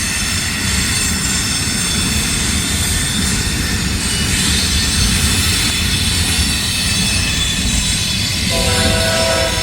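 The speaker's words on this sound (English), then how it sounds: "Sounds like we got another train coming." A train rumbles loudly past close by, wheels grinding and squealing on the rails, with a horn-like tone rising near the end.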